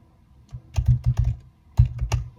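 Keystrokes on a computer keyboard while a chatbot welcome message is typed, coming in two quick clustered bursts of close, crisp taps separated by a short pause.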